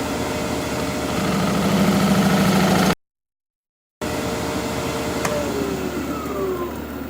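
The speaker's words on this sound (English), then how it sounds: "Just using a 1/2 inch swept back gouge to create the dovetail for my chuck jaws." A half-inch swept-back gouge cutting a dovetail tenon on a fir bowl blank spinning on a wood lathe: a steady droning motor hum with continuous scraping, a brief break, then more hum with thin whistling tool squeals.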